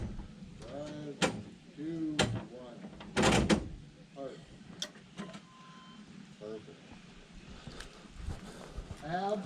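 A pickup truck door is slammed shut a few times, sharp thuds and latch clunks among clattering metal noises, while people talk excitedly nearby.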